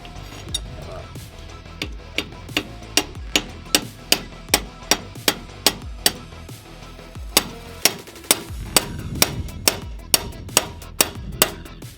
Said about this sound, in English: I'm going to try and bash one on and hopefully undo this wheel nut